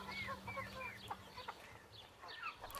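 Hens cluck and chatter close by on a quiet farm, with short bursts of bird calls repeating over a low steady hum and no talking.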